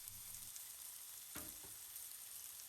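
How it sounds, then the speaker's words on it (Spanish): Chicken breast searing in a hot pan with avocado oil: a faint, steady sizzle with one brief clatter midway, quiet and close, with no talk. "añadimos un toque de aceite de aguacate y procedemos a sellar el pollo"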